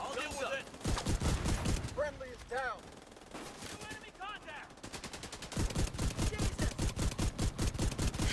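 Rapid automatic gunfire from a video game shooter, loud bursts of dense repeated shots filling the start and end, with a quieter break in the middle where faint voices and game sounds come through.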